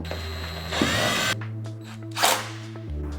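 A power drill whirs in short bursts, revving up and stopping as it drives a T25 screw into a locking mechanism, with brief pauses and a mechanical whine between runs.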